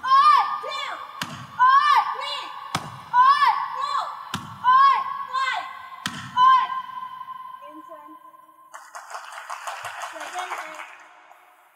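At a school annual-day self-defense demonstration, children land four sharp thuds on padded protective gear, each paired with a loud shouted call. Crowd noise rises at the end.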